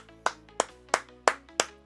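Five slow, evenly spaced hand claps, close and crisp, each sharp smack followed by a brief room decay against a quiet background with a low hum.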